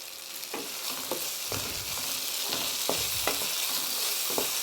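A cornflour, soy sauce and tomato sauce mixture frying in a hot pan, giving a continuous loud sizzle broken by several sharp stirring scrapes.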